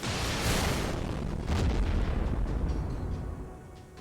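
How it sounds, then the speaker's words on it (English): A cannon blast in the video game Fate/Grand Order lands with a heavy explosive boom, followed by rolling rumble and crackling debris that gradually fade out, with no voices. "I think that calls for another cannon blast"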